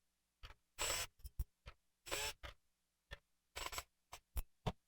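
Screws being taken out of a Thrustmaster T248 wheel base, heard as a series of close, short scraping and clicking bursts with brief pauses between them, and no talking.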